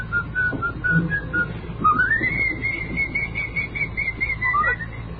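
Whistled notes from a person: a few short repeated tones, then a long rising and sliding melodic line ending in a quick upward swoop, close and clear over a faint low background with no speech.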